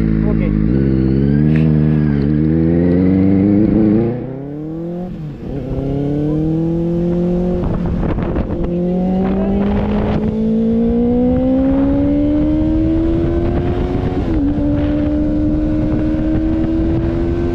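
A Benelli 600i motorcycle fitted with a Scarpion exhaust starts up and revs loudly and up close, its four-cylinder engine note climbing, dipping at the restart, then rising steadily through a long sustained rev.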